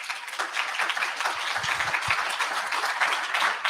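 Audience applause at a summit event, a dense steady patter of many hands clapping throughout, fairly loud and continuous with no talk over it.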